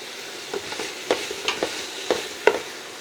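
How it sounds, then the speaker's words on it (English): Pieces of soaked, stemmed shiitake mushrooms sautéing in a pan, with a soft background sizzle punctuated by several sharp scraping stirs of a utensil, heard close and alone. "Saute that for a little bit."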